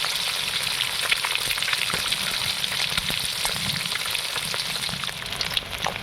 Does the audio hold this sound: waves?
no